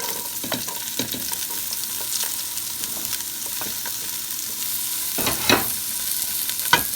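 Garlic and onions frying in a pot with smoked turkey for Southern collard greens: a steady, loud sizzle runs throughout, broken by a few scraping stirs near the end, with no voices.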